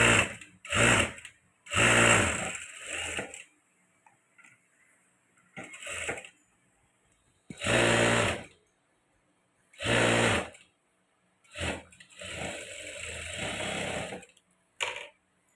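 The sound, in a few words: sewing machine stitching a blouse sleeve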